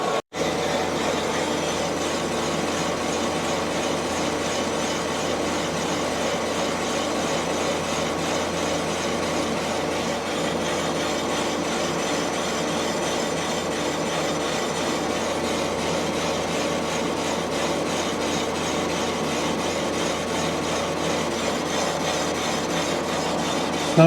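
A boring bar cuts steadily inside a Yamaha 250 Enduro motorcycle cylinder, a continuous, even grinding and rasping machine noise that holds at constant loudness for the whole stretch, close and with no voices.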